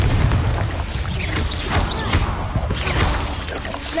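A Confringo blasting spell in a Hogwarts wizarding video game goes off as a dense, rumbling explosion, with continuous booming and crashing debris over about four seconds.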